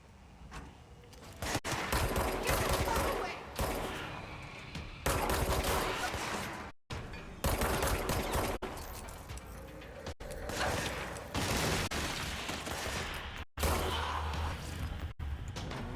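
Gunfire from a weapon in the video game Control, loud bursts of shots and impacts running nearly continuously with brief gaps, set among crashes and whooshes of combat.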